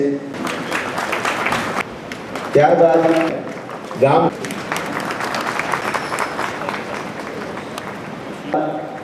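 An audience at a community award and felicitation ceremony claps in a sustained round of applause, with someone speaking over a loudspeaker through most of it.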